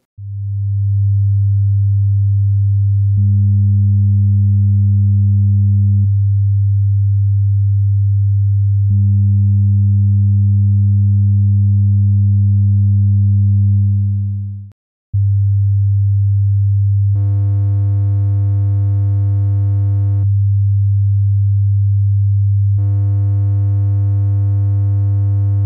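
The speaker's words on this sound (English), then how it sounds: "Here's a quick comparison with a sine wave." A steady low sine test tone holds throughout, first pure, then with even harmonic distortion added in two stretches, then briefly cut before returning with odd harmonic distortion layered in twice, sounding brighter and harsher.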